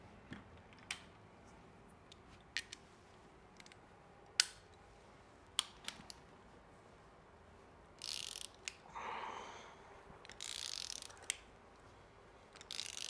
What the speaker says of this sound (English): Let's tighten this one back up again.